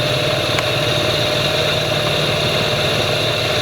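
An MG car engine runs steadily in overdrive while cruising around 25 mph, a constant close drone with a rough mechanical texture and no voices.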